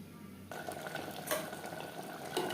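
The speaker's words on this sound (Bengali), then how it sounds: "হাই টু মিডিয়াম ফ্লেমে মাংস কষিয়ে নেব" Mutton pieces sauté in a pan over medium flame for a potato mutton curry; a soft frying hiss starts abruptly after a brief quiet moment, then continues low and steady with a couple of light clinks from stirring.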